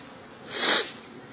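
Bees at a Kenyan top bar beehive give a brief buzzing hum that swells and fades as one flies close past, over a faint steady background drone.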